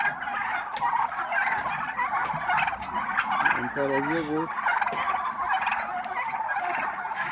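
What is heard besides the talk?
male turkeys gobbling at market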